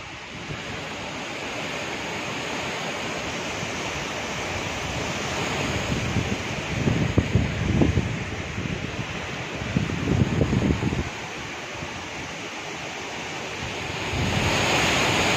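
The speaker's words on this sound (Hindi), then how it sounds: "अभी रात का टाइम है और अभी बहुत ज़्यादा बारिश और हवा चल रही है।" Hurricane wind and rain roar at night in Florida, a steady loud broadband rush that swells into stronger buffeting gusts midway, with no voices.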